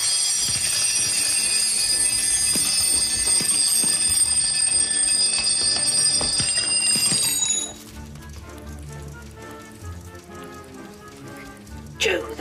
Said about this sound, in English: you must have switched off all of the alarm clocks at the end of 90 seconds